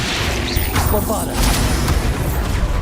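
A Bombarda spell blast booms amid a busy Hogwarts Legacy fight, with heavy thuds and crackling bursts layered under a shouting voice.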